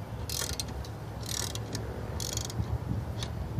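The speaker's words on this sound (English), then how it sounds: "release the blade with your ratchet wrench" Ratchet wrench loosening a lawn mower blade bolt, three quick bursts of crisp clicking pawl strokes with short pauses between them, heard close up over low background hum.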